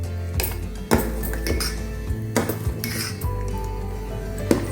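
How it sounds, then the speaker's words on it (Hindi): A spoon scrapes and clinks against a metal pot in irregular strokes while mixing dal, with a low steady hum underneath. "पहले हम ऐसे ही दाल को अच्छे से मिक्स कर रहे हैं।"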